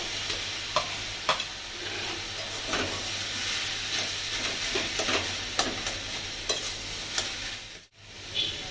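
Boiled potato goes into a hot pan for Bengali banana-flower croquette filling and is stirred, with a steady close sizzle broken by sharp scraping stirs and spatula knocks, then a brief drop near the end.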